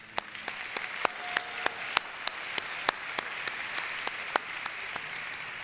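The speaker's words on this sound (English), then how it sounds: "Let's give a round of applause to our sponsors and this year's proficiency winners." A state convention audience applauds sponsors and award winners with a steady run of sharp, evenly spaced claps, several individual claps standing out clearly above a softer background of clapping in a large hall.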